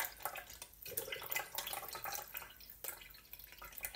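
Liquid drains out of a homemade detox drink, leaving only the juice. Soft, close trickling and dripping run continuously and fairly quietly, with small splashy bursts throughout.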